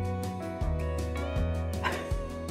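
Dogs in a home give a few short yips and bow-wow barks at moderate distance over a steady low household hum, with no one talking.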